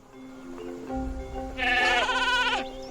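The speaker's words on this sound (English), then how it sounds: "Honestly, Hugo, they're just sheep." Sheep in Spyro 2: Ripto's Rage bleat in a short burst of wavering, nasal cries, close and fairly loud, rising over a faint background tone from the game.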